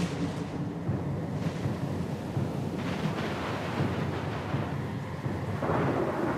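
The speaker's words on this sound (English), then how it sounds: "Lost and alone in the storm?" Thunderstorm at sea in Pillars of Eternity II, heavy rumbling thunder rolling over a dense wash of rain and wind, loud and continuous with swells of intensity.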